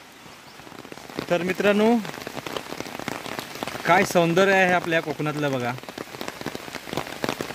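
Rain falls on a green hillside by a small Hanuman temple in Manche-Devgad, Sindhudurg, in the Konkan, making a steady close hiss beneath someone talking.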